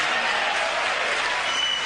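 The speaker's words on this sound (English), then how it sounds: "A gigantic round of applause for the president" A crowd bursts into dense, steady applause for the president's speech, a short loud wall of many hands clapping at once with no break.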